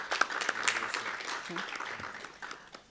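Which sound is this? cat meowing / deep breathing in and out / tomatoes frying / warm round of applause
warm round of applause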